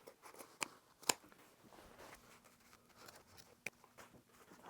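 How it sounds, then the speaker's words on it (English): Scissors snip through a jacket seam during a Lost Boys Marko jacket build, giving a few sharp, close crunching cuts between quieter rustling of fabric. "start cutting first along this long seam to make it easier to get your hands and the scissors in there"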